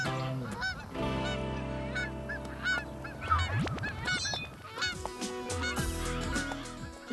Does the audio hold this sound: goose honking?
yes